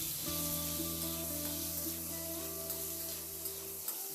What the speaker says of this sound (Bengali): এবার আলুটাকে নাড়াচাড়া করে একটু ভেজে নেব।